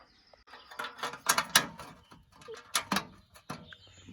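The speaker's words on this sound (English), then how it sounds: "But now I've got my screws to put in, which I will do right now." Screws being driven to mount a license plate on a 1940 Mercedes coachbuilt cabriolet, irregular ratcheting clicks and scraping metal turns in short bursts, close and fairly loud with brief pauses between.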